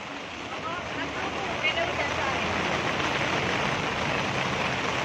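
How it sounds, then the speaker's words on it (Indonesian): Heavy rain drums steadily on a moving bus on an Indonesian bus trip, a dense continuous wash of water noise mixed with road rumble throughout. "Cuacanya hujan deras."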